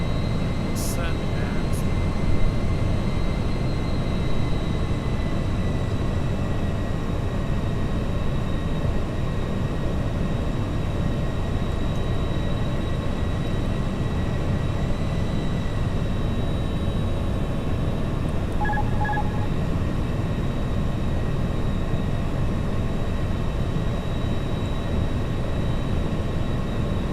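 Aircraft engine in a flight simulator game, a steady, even drone with a faint tonal whine that holds unchanged for the whole stretch.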